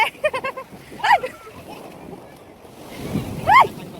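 Sea waves wash in at Kashid beach, a soft rushing swell that rises near the end, under excited voices of people playing at the water's edge.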